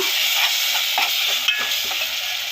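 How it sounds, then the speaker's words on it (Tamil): Tomato and onion masala sautéing in a pan over a low flame, a steady, fairly loud broadband sizzle with faint stirring taps and no talk. "நான் சிம்மில் வச்சே நல்லா வதக்கி விட்டுட்டு இந்த மாதிரி வதக்கிறேன்னா"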